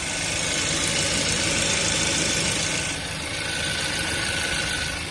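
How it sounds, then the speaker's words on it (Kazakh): A 2012 Kia Sportage with a 2.0-litre turbocharged GDI petrol engine idling close by, a loud, even mechanical drone with a low rumble and slight ticking, running continuously with a small dip in level partway through. "2 куб турбо мотор GDI."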